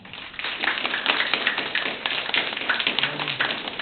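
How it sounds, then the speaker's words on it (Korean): An audience at a middle-school reading and debate competition final in Seongnam gives the debate team a round of applause: brisk, dense clapping that runs the whole stretch at moderate loudness. "우리 조수팀에게 다시 한번 큰 박수 부탁드리겠습니다"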